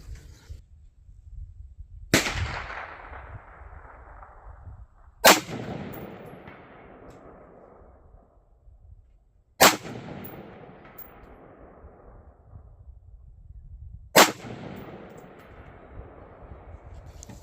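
Four sharp gunshots ring out several seconds apart on an outdoor range, aimed at a 16-inch steel gong 300 yards away. Each crack is loud and near, and each is followed by a long, fading ring and echo.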